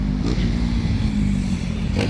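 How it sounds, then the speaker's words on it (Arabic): An engine revs loudly and close by at a Beirut amusement park, a low, rough, continuous roar with brief clattering bursts near the start and end. "هيك صوت الموتور"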